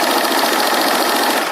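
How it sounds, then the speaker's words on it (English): A sewing machine runs steadily while stitching a seam on pajama pants, a close, continuous mechanical whir with a fast, even rhythm and no pauses, alone and fairly loud. "a lot of people will even double stitch this on their sewing machine"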